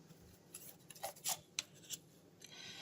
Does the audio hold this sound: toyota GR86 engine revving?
no